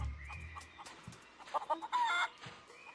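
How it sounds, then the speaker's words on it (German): Chickens cluck in the video game The Curse of Monkey Island, with a run of short, close clucks and squawks over soft background game ambience and no speech. "Also außer einer Menge Hühner."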